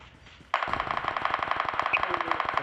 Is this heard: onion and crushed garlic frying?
no